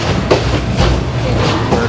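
Old train on Yangon's Circular Train rocking along slowly, around 15 miles an hour, with a continuous rumbling rattle and a few sharp clacks of carriage joints.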